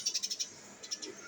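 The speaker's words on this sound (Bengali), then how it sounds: "আর পাখির কি সুন্দর ডাক, এটা কাঠঠোকরা পাখির" A woodpecker calls outdoors on a sunny morning: a quick run of five faint, high, sharp notes, then a short pause and a couple more, with no one talking.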